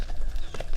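Horses' hooves clip-clop on arrival at the stables in the Philippines, quick muffled strikes under a steady rumbling background.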